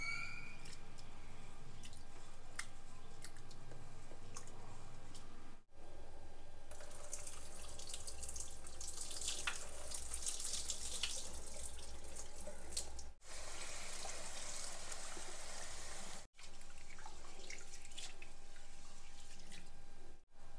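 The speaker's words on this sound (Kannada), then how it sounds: "ಇದನ್ನು ಅಕ್ಕಿನ ಚೆನ್ನಾಗಿ ವಾಶ್ ಮಾಡೋಣ" Rice being washed under a running kitchen tap, with a steady broadband rush of water that continues for about twenty seconds, broken by a few brief pauses, and no talking.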